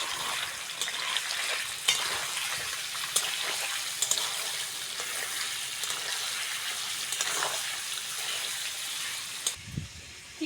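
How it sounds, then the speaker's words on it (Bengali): Chicken pieces dropped into hot mustard oil in a wok for a chicken curry, a loud dense crackling sizzle that holds steady throughout with occasional sharper pops, ending in a brief thump, no talking. "এবার তেলের মধ্যে চিকেনটা দিয়ে দেবো"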